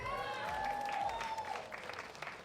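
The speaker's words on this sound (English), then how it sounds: "How about a round of applause for Becky again?" An audience at a women's summit applauds in a sustained burst of clapping, loud at first and gradually thinning out, with a faint tonal ring beneath it.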